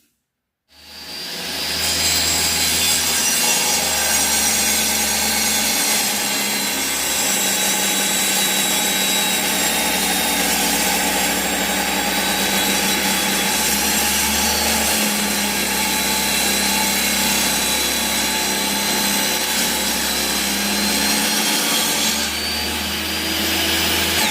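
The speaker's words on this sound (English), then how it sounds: "Then round over the edges, and then we start sanding." A beech wood side table being sanded by a loud, steady power sander that drones almost without a break. It starts after a brief silence and shows slight dips in pitch, with no talking.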